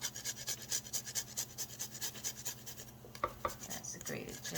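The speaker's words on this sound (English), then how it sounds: "when I'm ready to have some ginger, I usually just cut off a piece and grate it in" Frozen ginger is grated in quick, rhythmic raspy strokes against a grater, soft and close, with a brief clatter near the end.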